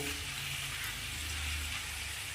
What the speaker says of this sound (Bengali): দিয়ে আবার সেই গ্যাসের ফ্লেমটাকে কম করে হালকা আঁচে নাড়াচাড়া করতেই থাকবো।